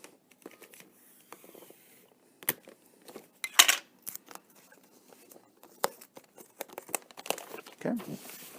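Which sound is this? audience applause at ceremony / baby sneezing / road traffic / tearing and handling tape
tearing and handling tape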